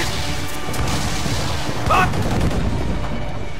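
Dense, continuous rumble of cannon fire and explosions in Assassin's Creed 4 Black Flag, with one louder burst standing out near the middle; the barrage never lets up.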